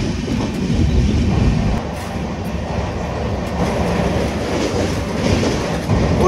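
Rupasi Bangla Express rolling into Kharagpur railway station at its first stop, a loud, continuous rumble of wheels and carriages with faint rhythmic clatter, close and unbroken, no voices.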